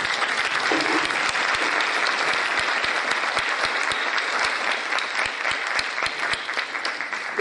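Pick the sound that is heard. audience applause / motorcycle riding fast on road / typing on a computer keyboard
audience applause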